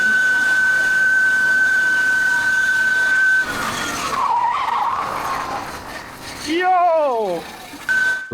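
A motorcycle braking hard and skidding on a road after a car pulls out ahead, with a steady high tone, a rough scraping skid, and a voice shouting near the end.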